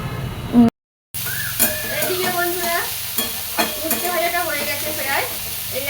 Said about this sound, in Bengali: হলুদ দিয়ে আবার একটু নাড়াচাড়া করে ঢেকে দিলাম